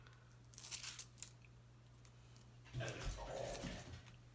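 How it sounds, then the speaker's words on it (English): A dog barks and yelps excitedly outdoors, faint and distant, in two short bursts separated by a pause, over a steady low hum. "And my dog's out there going crazy."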